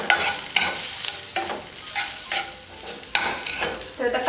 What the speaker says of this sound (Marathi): मी आता इथे कांदा पहिल्यांदा भाजून घेते